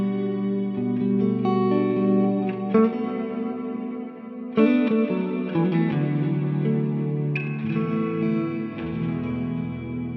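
Onward guitar effects pedal set to a plain reverb, sustained chords blooming into a washy, echoing ambient tail with shifting harmonics and occasional new strums.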